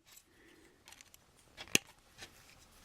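A single crisp snip of scissors cutting through paper figures stands out sharply against a near-silent room, with a few faint rustles of paper around it.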